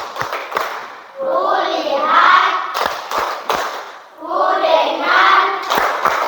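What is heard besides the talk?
class doing 'tepuk fokus' rhythmic clapping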